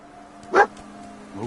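Dogmeat, the dog companion in the video game Fallout 4, gives a single short, clear bark followed by a faint whimper, close and isolated against a quiet game background.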